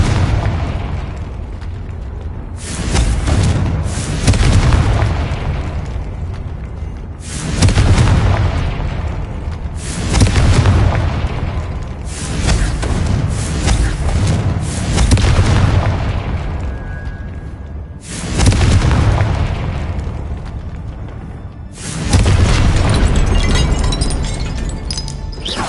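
Repeated Confringo explosive spells blast in a Harry Potter video game, about seven loud booming bursts at irregular intervals, each with a crackling tail, and no talking.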